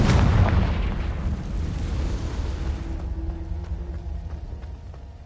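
Confringo fire spell explosion in Hogwarts Legacy, a loud blast opening the clip with a deep boom that rolls and decays over a few seconds into a quieter hum.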